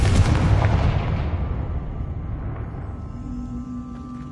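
A Confringo fire spell explodes in Hogwarts Legacy with one loud, close, booming blast that rolls and fades into a long rumbling tail, and no speech over it.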